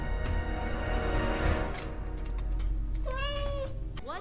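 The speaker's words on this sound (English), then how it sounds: "Probably nothing. Just the cat." A cat meows twice in a TV drama scene, a clear rising mew near the end over steady background ambience and score.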